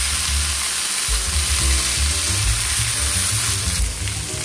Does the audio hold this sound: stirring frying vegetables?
yes